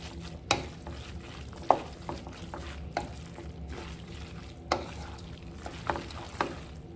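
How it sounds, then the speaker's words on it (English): Green onions toasting in a hot wok for shrimp pad thai give a steady low sizzle and crackle, with occasional sharp clanks of a utensil against the metal scattered through, and no voices. "Now I'm going to add my green onions to my wok here and give it a toast."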